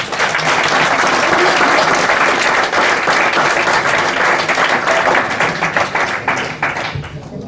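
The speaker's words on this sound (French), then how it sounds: "je vous propose d'applaudir fortement notre ami Guillaume" Loud, dense applause from a conference audience fills the whole stretch at a steady level, thinning slightly toward the end.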